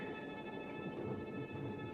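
Thunderstorm rain and a low thunder rumble make a dense, continuous roar that holds at an even level for a couple of seconds, fairly faint and with no voices.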